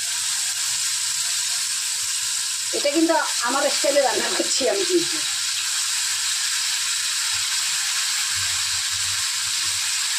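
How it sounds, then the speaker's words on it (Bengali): Fish sizzling as it fries in hot oil in a kadai, a steady hiss running throughout while a voice talks briefly in the middle. "কড়াইয়ে তেলটা গরম হয়ে গেছে, এবার আমি এর মধ্যে মাছগুলো দিয়ে দেবো"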